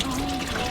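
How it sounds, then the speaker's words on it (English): Salty rinse water pours over laundry aboard a sailboat, heard as a brief, steady splashing wash with no pause. "Extra salty rinse."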